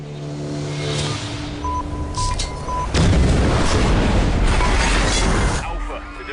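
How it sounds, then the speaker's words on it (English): A bomb detonates in an action film: after tonal score and a brief beep, a loud broadband blast bursts in and rumbles on as sustained heavy noise with debris and roar, near and dominant, with music fading out underneath. "the device has detonated. Clear the area now."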